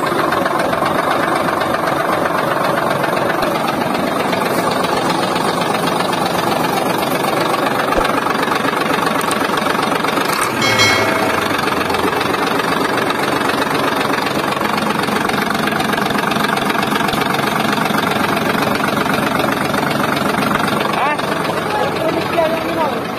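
A HOWO truck diesel engine runs steadily after repair work on a stopped cylinder, a loud, rough, knocking idle heard up close for the whole stretch, with a brief clatter midway and background voices at times.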